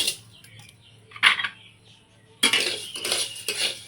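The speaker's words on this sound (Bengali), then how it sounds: "উনুন জ্বালিয়ে কড়াই বসিয়ে দিয়েছি কড়াইটা গরম হয়ে গেছে এবার আমি চালগুলো এর মধ্যে দিয়ে দেব" Raw rice being stirred in a hot dry wok over a stove, scraping and rattling in a few short bursts separated by quiet gaps, the last stretch busier and louder.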